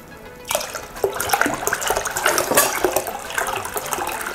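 Water is poured into a plastic bottle of roughly one liter while mixing homemade disinfecting liquid, beginning abruptly after a quiet half second and then running as a steady, splashy gurgle right up close.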